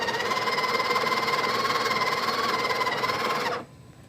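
A Breville Barista Express Impress grinds and doses coffee with a loud, steady mechanical whine and hum that cuts off abruptly near the end, leaving faint background noise.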